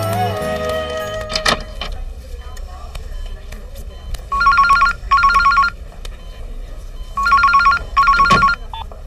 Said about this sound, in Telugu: ఇప్పుడే డాక్టర్ గారికి ఫోన్ చేస్తాను